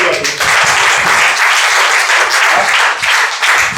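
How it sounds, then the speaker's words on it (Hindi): A church congregation applauds during a Sunday service, with steady, dense clapping filling the room throughout and a few faint voices underneath. "ताली बजाओ।"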